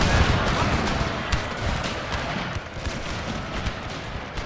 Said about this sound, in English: They're probably shooting each other now. The pistoliers.